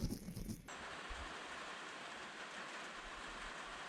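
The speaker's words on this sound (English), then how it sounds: "There's the sound of rain." Rain falls steadily as a soft, even hiss outdoors around a car, following a brief louder clatter at the start.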